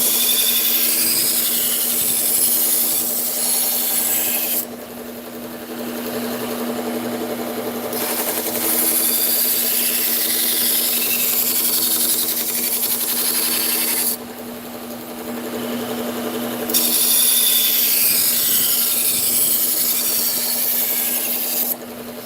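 Kitchen knives being sharpened on a stone, with long, steady rasping strokes repeating close up and loud, broken by two brief pauses.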